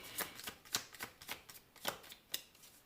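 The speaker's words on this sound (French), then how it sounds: "Je vais mettre une carte par-dessus ce roi d'épée." A tarot card is laid on top of another during a reading, giving soft papery taps and slides, about a dozen light flicks in an irregular rhythm, close and quiet with no talking.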